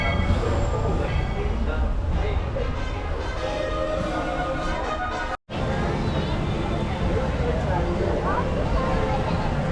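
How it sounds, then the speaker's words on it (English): A Magic Kingdom park train pulls into the station at Disney World at Christmastime, a loud, close, steady rumble with rolling rail noise and crowd murmur around it, broken by one brief dropout. "And here's the train coming now."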